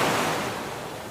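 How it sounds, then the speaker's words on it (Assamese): Large sea waves surging in a steady broadband wash, close and moderately loud, slowly easing over a second with no voices. "পানীৰ বিশাল ঢৌ"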